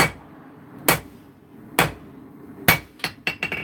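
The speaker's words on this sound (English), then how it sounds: "Forging this on edge, there's no delamination between the cladding and the core." A hammer forges a welded clad steel billet on edge. Sharp, ringing blows fall at a steady slow pace, then a quicker cluster of lighter strikes comes at the end. They sound close and loud, with no voices.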